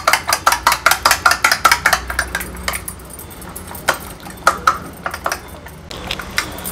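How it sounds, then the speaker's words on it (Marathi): An egg beaten in a bowl makes quick, regular clinking taps of utensil against the bowl, fast and steady at first, then slower and more uneven. "आता हे एक अंड हे जे आपण घेतलेलं ना, व्यवस्थित आपण हे अंड फेटून घेऊया"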